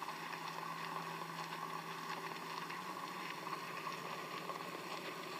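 A tractor engine in Spintires drones steadily at a constant idle, a rough mechanical hum with a faint rattle, even and unbroken throughout, no voices over it.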